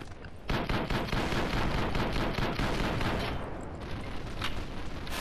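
Rapid gunfire in the shooter game Double Action Boogaloo, dense bursts of shots packed close together, continuous and loud for several seconds with no talking.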